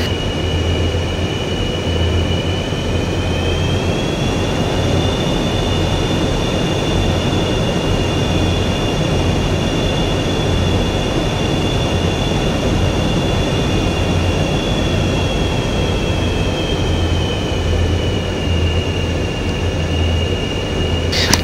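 An F/A-18E jet taxiing in a flight simulator game: a steady, loud engine whine and roar holds throughout, with a high tone that rises slightly and then settles back.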